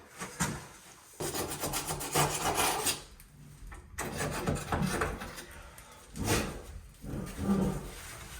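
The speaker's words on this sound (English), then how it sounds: "Just have to grind that back corner with the grinder a little bit." A grinder working the back corner of a tiled niche shelf in an off-grid house under construction, producing bursts of harsh, gritty abrasive rasping separated by short pauses, fairly close and moderately loud.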